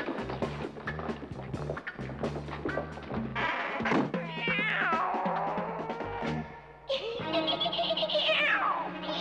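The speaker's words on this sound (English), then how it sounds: "We're here so you can adopt a cat." A cat in an animated episode of The New Adventures of Batman gives a series of several rising and falling meows and a drawn-out caterwaul, loud and close, with occasional thumps between them.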